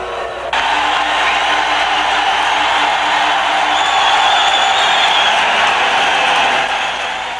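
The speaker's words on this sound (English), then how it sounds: "The crowd really did drown him out." A hockey arena crowd roars and cheers loudly and steadily, a dense wall of noise that drowns out the anthem singer.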